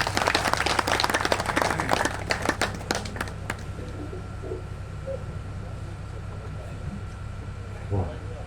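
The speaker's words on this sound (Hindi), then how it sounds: "जोरदार तालियों से आप स्वागत करें मीरा दीक्षित" Audience applause welcoming poet Meera Dixit on stage at a Hindi comic poetry gathering: dense, loud clapping for about three seconds that thins out and fades into a low room hum.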